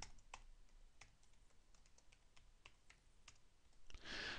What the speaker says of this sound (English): So I'm going to type this in now.